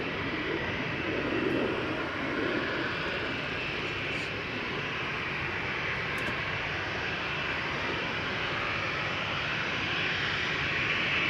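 Airliner departing Amsterdam Schiphol Airport, its engine roar a steady, loud broadband rush that holds for the whole stretch with no voices.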